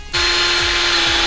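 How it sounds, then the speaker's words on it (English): Power drill boring into wood for a simple toy steam boat, a loud steady whining motor hum with a sustained pitch and periodic low thumps, close and continuous without talk. "Drill down like that."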